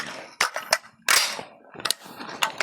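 M16A2 rifle test firing with 69gr match and 62gr M855 ball ammunition, heard as several sharp, loud reports at irregular intervals, the strongest one in the middle, with short decays between shots.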